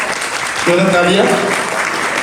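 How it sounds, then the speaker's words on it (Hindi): Applause from an audience at a religious ceremony honoring two women entering celibate spiritual life, heard as steady broadband clapping throughout, with a voice or tonal sound briefly rising over it in the middle. "तालियां।"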